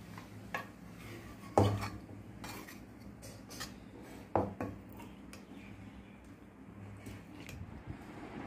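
Cooked vegetable being scooped from a pan onto a plate, with quiet intermittent metal-on-metal scrapes and clinks of a spoon against cookware, two of them noticeably louder.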